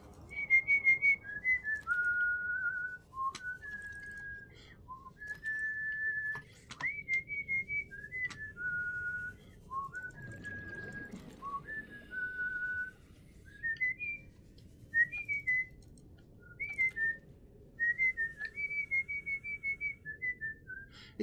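Someone playing Subnautica whistles a wavering tune of short chirps and slides in uneven phrases with brief pauses between them, close and fairly loud, with faint background noise underneath.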